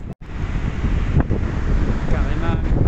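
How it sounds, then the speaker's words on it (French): Strong wind rushes up from below and buffets the microphone in a loud, continuous roar with gusty surges throughout and a brief dropout near the start. "Ah mais là il y a un vent de fou."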